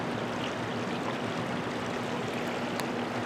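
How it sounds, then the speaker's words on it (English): Water from a hydro plant outflow rushes steadily past, a broad, continuous churning roar heard close and unbroken, with a faint low hum running underneath. "that's the outflow from the hydro plant there."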